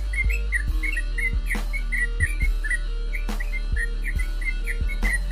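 A yellow-vented bulbul (trucukan) sings in a steady run of bright, repeated chirping phrases, close and clear, with faint background noise and no talking.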